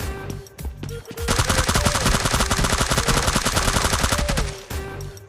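Sustained automatic gunfire erupts in the PUBG Mobile Lite video game as an enemy is taken down, a loud, dense rapid burst lasting several seconds after a few lighter shots.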